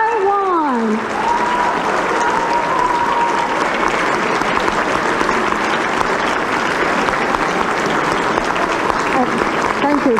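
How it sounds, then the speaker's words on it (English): A large audience applauds continuously and loudly to welcome a speaker, a dense wash of clapping that fills the whole stretch, with a few brief voice cries over it near the start. "with a big round of applause"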